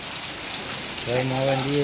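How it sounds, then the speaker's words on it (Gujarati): Steady, dense monsoon rain hisses throughout on waterlogged streets in Ahmedabad, and a voice starts talking over it halfway through. "આજે અમારા અમદાવાદમાં કેવો વરસાદ આવ્યો"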